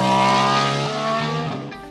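A Formula One 1.6-litre V6 turbo engine screams at high revs, a loud, close, dense harmonic whine that holds steady and then starts to fall away toward the end, with no voices.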